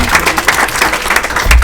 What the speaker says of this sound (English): Right there we have Ebony Rose, a round of applause for that, these beautiful outfits.